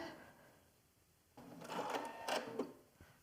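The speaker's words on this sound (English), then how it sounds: "And take that, sew down this side." A sewing machine runs in a short, steady burst as it stitches a fabric seam on a butterfly pouch, starting after a quiet pause and stopping within about two seconds, close and moderately loud.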